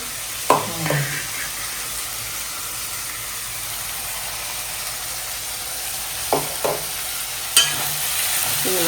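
Tomatoes with ginger garlic paste sautéing in a pan, a steady close sizzle and hiss broken by a few louder clinks and scrapes of stirring, with no voices.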